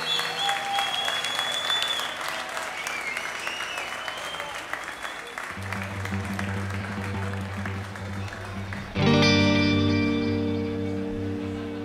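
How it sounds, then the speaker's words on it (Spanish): Concert audience applauds in a dense, steady wash of clapping, heard with sustained music tones and then a loud chord that enters near the end. "Así que nos merecemos, creo que todos, un fuerte aplauso."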